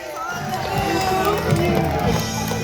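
A live audience at a wildlife presentation cheers and whoops to welcome Elvis onstage, with a sustained wash of crowd noise, scattered shouts and voices throughout.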